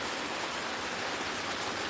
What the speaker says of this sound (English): it's been raining the whole time I've been on live